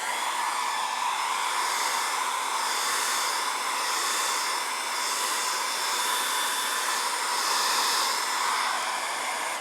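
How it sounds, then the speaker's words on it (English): A hairdryer runs continuously over a freshly poured epoxy bar top to knock down bubbles, a steady airy whoosh with slight swells as it moves, close and alone. "I'm just gonna hit it with a hairdryer and try to knock some of them down"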